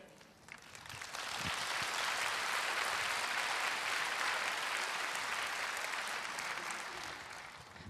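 Audience at a church gathering breaking into applause, building quickly into a full, sustained round of clapping that holds steady and then begins to taper at the end.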